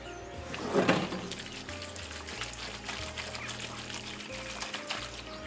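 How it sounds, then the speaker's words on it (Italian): Pasta cooking water poured into a pan holding drained spaghetti, a short splashy pour near the start that turns into a soft trickle over a low, steady kitchen hum. "Aggiungo un po' d'acqua di cottura."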